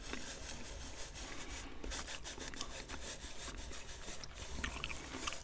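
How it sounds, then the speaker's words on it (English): Finger rubbing pencil shavings across a paper map, a soft, close, continuous scratchy rustle with small irregular strokes, heard alone. "Move around the little shavings. And then use my finger"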